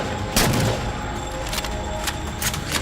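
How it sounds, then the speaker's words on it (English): Beam rifle fire aimed at a gold elite in the video game Halo 4, a few sharp shots rising out of a steady background hum of game sound, with one louder report near the start. "I like to pull out my beam rifle and shoot this gold elite off to the turret"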